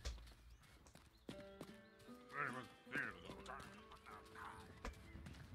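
Horse hooves clip-clop steadily in the Rustler video game, with a whinny rising over the hoofbeats and voices talking underneath.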